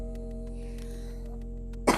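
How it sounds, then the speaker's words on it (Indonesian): A single short cough from someone with a seasonal cold bursts out at the very end, after a quiet stretch of steady background hum. "kalau ada sedikit batuk-batuk tolong dimengerti ya guys"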